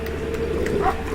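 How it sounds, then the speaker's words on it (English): A pack of dogs barks at a wolf at night in WolfQuest, a few short yips and barks at moderate distance over steady ambient noise within about a second. "he finds himself harassed by a bunch of dogs"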